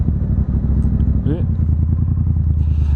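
Triumph Scrambler 900 motorcycle engine droning steadily and loudly while riding, a constant low rumble with wind buffeting, under a rider's talk.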